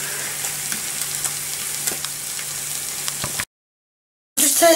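Bacon sizzles steadily in a frying pan as it is turned over, giving a constant crackling hiss with small pops. The sound cuts out briefly to silence, then returns louder at the end.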